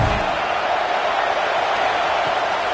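A stadium crowd roars at a college football game against Penn State, a dense, steady wash of distant cheering and noise that holds throughout.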